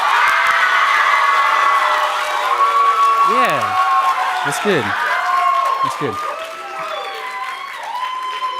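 A school audience of students and parents at an Akron Early College speaking event cheers, whoops and claps loudly in a sustained roar with high shouts rising above it, while someone speaks briefly over the noise.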